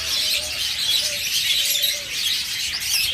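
Caged budgerigars, forpus parrotlets and lovebirds twitter continuously nearby, their bright, busy chirping overlaid with occasional short whistled notes.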